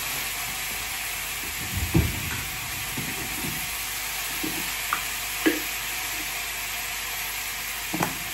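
Potatoes frying in a pan with salt and turmeric, a constant close hiss of hot oil broken by scattered scrapes and knocks of a spatula as they are stirred, no talking.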